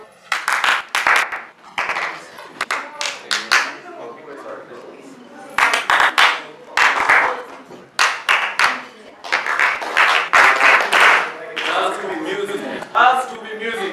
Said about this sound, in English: Follow through, 2 claps only, not 3 claps.